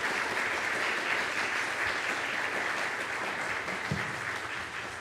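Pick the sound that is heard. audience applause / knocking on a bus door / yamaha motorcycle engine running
audience applause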